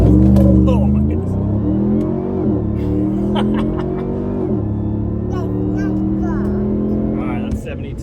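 A RAM TRX pickup carrying an inflatable cargo box cruises at about 70 mph, its engine giving a loud, steady drone with slight pitch shifts, while someone talks throughout over the engine.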